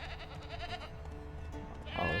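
A goat in The Witcher 3 game bleats in a short wavering cry, fairly close and alone, with a louder harsh bleat at the very end.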